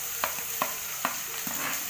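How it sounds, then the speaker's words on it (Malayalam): Sliced ginger frying in hot coconut oil in a pan, a soft continuous sizzle broken by about four evenly spaced scrapes of a spoon stirring, with no talking. "വെളിച്ചെണ്ണ നല്ലോണം ചൂടായിട്ടുണ്ട് നമുക്ക് ഇഞ്ചി അതിലേക്ക് ഇട്ട് കൊടുക്കാം"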